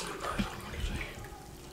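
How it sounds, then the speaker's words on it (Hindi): A glass of water poured into a pressure cooker holding tea bags and soaked chickpeas, a short soft splash and gurgle close by with a couple of brief knocks. "1 गिलास पानी का इसके अंदर शामिल करेंगे"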